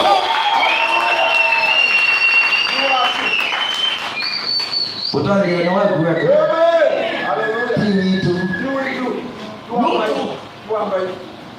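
Applause mixes with cheering voices and a loud, tonal shout or song over a crowd at a Swahili-language Sunday church service, with clapping swelling and fading in bursts.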